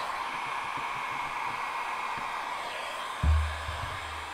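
A heat gun blows a steady stream of hot air over Chevrolet Silverado window trim, a broad continuous hiss running throughout with a brief low thump near the end.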